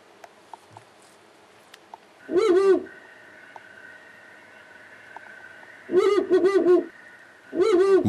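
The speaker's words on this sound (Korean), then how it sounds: "다른 긴 점박이 올빼미의 울음소리를 들려줍니다." Three separate bursts of recorded long-eared owl calls played as a lure come at spaced intervals, each a short run of hoots, with faint rustling and clicks between them.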